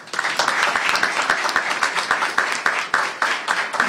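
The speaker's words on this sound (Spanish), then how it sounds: "Recibámoslo con un fuerte aplauso" An audience at a Spanish Language Day celebration applauds to welcome a vice minister, a sustained round of close, crisp clapping with distinct hand strikes standing out, steady for the whole stretch.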